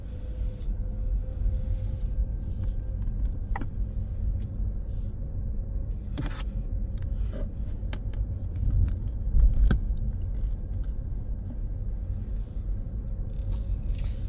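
Car pulling away from the kerb on a residential road during a driving test route, steady low engine rumble and road noise throughout with a few faint clicks and knocks from the cabin.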